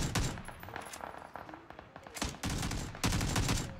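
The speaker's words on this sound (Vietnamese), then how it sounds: "Súng đã bắt đầu được xả." Bursts of automatic weapon fire in a PUBG esports match at IEM Katowice, with dense, rapid volleys that grow louder and more forceful toward the end.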